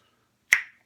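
A bottle of Calypso lemonade is opened with one short, sharp pop or snap that decays quickly in an otherwise quiet room.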